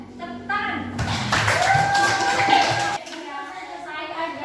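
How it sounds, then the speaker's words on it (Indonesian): Children in a classroom clap together after a group finishes presenting steps for making tea, a dense burst of claps rising in the middle and stopping abruptly, with kids' voices talking around it. "Oke, tepuk tangan."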